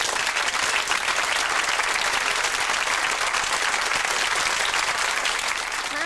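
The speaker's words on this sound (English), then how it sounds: "So give yourselves a round of applause." A TV studio audience at a 1990s British chat show gives a long, even round of applause, dense clapping filling the room steadily from start to finish.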